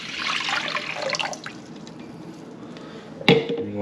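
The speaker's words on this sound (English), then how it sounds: "first step, you got to put 4 cups of water" Water splashes and rushes into a pot for a turkey brine, loudest at first and then tapering off, followed a moment later by a single sharp clunk.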